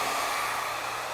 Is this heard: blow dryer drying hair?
yes